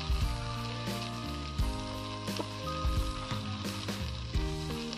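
Cabbage frying in a pan for a Bengali small-crab curry, a soft sizzle heard under louder background music.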